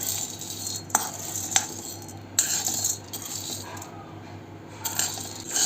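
Chana dal dry-roasting in a pan for metkut, the lentils rattling and clinking against the metal in bursts as they are stirred, close and without talk.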